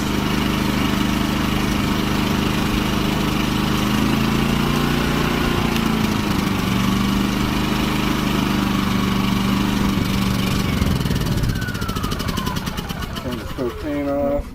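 A Champion 3400 RV generator, new and running on propane, drones with a steady engine hum and buzzing harmonics that hold evenly, then shift near the end as other tones sweep in.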